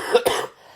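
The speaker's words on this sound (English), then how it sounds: "coughs are coming back" A single short cough, close and fairly loud, followed by a brief quiet tail, from a person speaking on a podcast.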